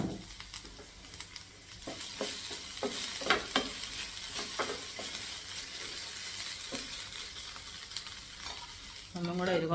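Food sizzles steadily in hot oil in a pan while a utensil stirs it in repeated scraping strokes, with a louder burst of frying near the end as more oil is poured in.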